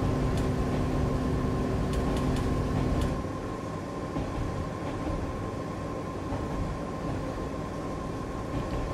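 Train running on the Kurama Line in the Japanese Rail Sim video game, a steady rumbling interior drone with faint clicks and a constant hum, close and continuous without speech.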